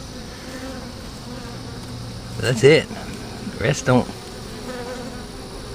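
Honey bees hum steadily around an open hive with sparse brood and empty cells, a constant close drone that carries on beneath brief bursts of conversation.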